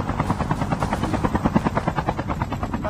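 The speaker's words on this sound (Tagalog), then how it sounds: "Hay na itong helicopter." A helicopter flies in the Call of Duty Mobile video game, its rotor thumping in a fast steady rhythm, loud and close, filling the whole moment with no talk over it.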